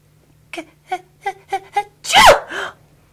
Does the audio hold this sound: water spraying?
no